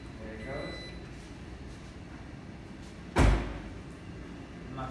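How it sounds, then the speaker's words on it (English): Trunk of a 2012 Jeep Grand Cherokee Overland slams shut with one sharp, loud thud that fades quickly, following a quiet stretch of outdoor ambience. "I'm going to close this trunk."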